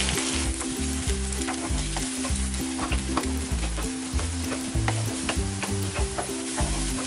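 Egg bhurji made from four beaten eggs is stirred and fried in a pan, a steady sizzle broken by repeated scraping spatula strokes that come in close, rhythmic bursts.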